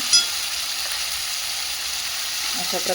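Ground masala paste spits and sizzles in a pan for a spicy mutton curry, a steady moderate hiss with faint crackles and a few light stirring scrapes near the end.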